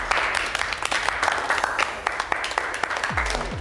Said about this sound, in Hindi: अहमद के लिए तालियां